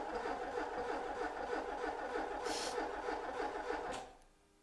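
An engine cranked on the starter, a loud, steady rhythmic churning of the motor turning over for about four seconds, then cutting off and fading to quiet without catching.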